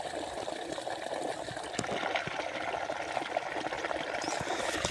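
Irrigation water runs steadily across a farm plot where radishes and spinach are grown, a continuous close trickle and gush with scattered splashes and no voices.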